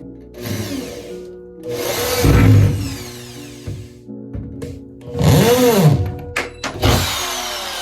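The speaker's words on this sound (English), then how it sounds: "I'll start out by putting the 2 screws here and here, so this is secure to the ceiling" A power drill drives screws through a drywall patch into a ceiling, in several short whirring bursts that rise and fall in pitch, with quiet gaps between them.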